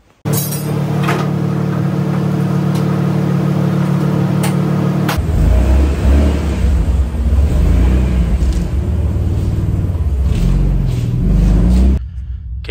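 Turbocharged RB30 engine in an XR31 drift car cranking and catching, then idling loud and close with a rough, steady rumble and occasional blips before cutting off near the end.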